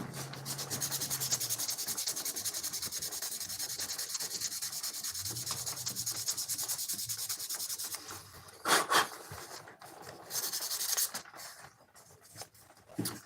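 Wood is sanded by hand with high-grit sandpaper, a steady, raspy back-and-forth rubbing, close and continuous, with a few brief pauses and knocks near the end.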